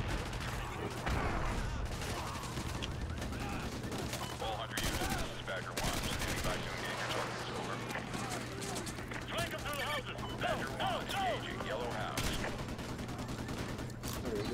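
Gunfire in Call of Duty: Modern Warfare 2, with rapid bursts and scattered shots mixed with battle noise and a constant engine hum, while a voice talks over it.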